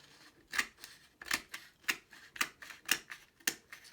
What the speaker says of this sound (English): I'm going to take scissors. I'm going to cut away